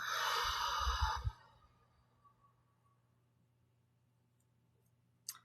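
A deep breath during a guided emotion session: a loud, breathy exhale close to the microphone, tapering into near silence, followed by a short sharp click at the end.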